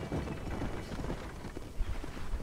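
Mule hooves clip-clopping in the Red Dead Redemption video game, a quick, even run of soft hoof thuds at moderate volume with no talk.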